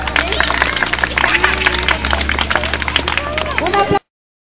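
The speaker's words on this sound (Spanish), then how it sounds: "un fuerte aplauso para ellos." An audience claps and cheers for a dancing couple at a Día de Reyes celebration, a dense burst of close hand claps mixed with voices that runs for about four seconds and then cuts off abruptly.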